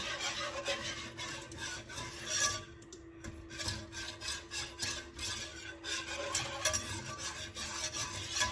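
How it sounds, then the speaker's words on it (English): Evaporated milk whisked into a cheese sauce in a pot for mac and cheese, a quiet continuous rubbing and scraping with an irregular back-and-forth rhythm, close by and faint, with no talk. "So I'm gonna gradually add in this evaporated milk. I'll do a little half at a time and then whisk."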